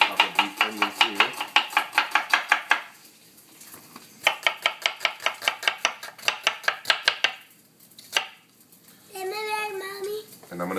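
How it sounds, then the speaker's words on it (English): A knife chops onions on a cutting board in quick even bursts of sharp thuds, broken by pauses, with a brief bit of background voice near the end. "we're just going to chop up these onions here"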